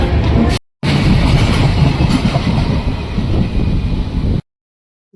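Train standing at Guntakal railway station, its loud, steady rumble filling the clip after a brief break, cutting off abruptly near the end.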